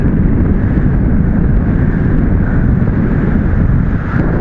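Steady, loud wind buffets the microphone while an SW11 model glider with a rebuilt wing flies near a paraglider, producing a constant, roaring rush with no voices.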